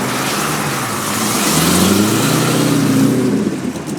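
Single-seater race car engine revving loudly nearby, pitch climbing and falling in a sustained roar with no talk over it.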